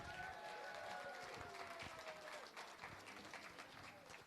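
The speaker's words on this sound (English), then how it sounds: "ladies and gentlemen, a massive round of applause for Paula Murphy." Faint, steady crowd applause fills a darts championship hall at the Lakeside, a dense wash of distant clapping with some cheering and murmur and no single voice standing out.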